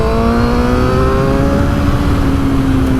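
A 2012 Suzuki GSX-R 750 Yoshimura edition sport motorcycle engine holds a loud, steady high-pitched drone, its tone sliding slightly as it revs, with no voices.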